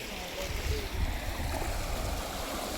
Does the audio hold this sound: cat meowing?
no